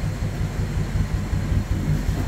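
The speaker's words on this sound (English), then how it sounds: "listen to the exhaust back here." A 1957 Ford Fairlane Convertible idling indoors, its exhaust a low, steady burbling rumble with an even pulsing rhythm, heard close at the rear with no talking.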